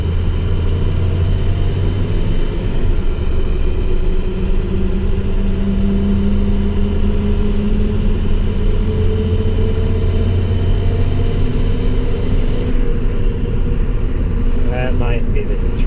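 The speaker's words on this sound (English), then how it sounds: "Just trying to get some engine fan action for you." An International Durastar truck's diesel engine runs with its engine fan, giving a steady, deep rumble that holds throughout while someone talks over it.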